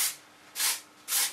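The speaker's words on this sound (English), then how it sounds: "put in a little bit of this spray" Three short bursts of dry shampoo styling spray hiss onto hair, each a crisp aerosol puff about a quarter second long, evenly spaced and close up.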